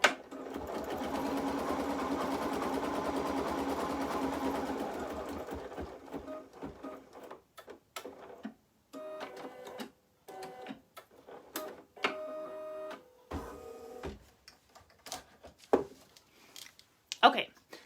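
An embroidery machine tacking down a piece of snowflake fabric runs in a fast, steady close stitching buzz for about five seconds, then stops, leaving scattered clicks, handling noises and a voice.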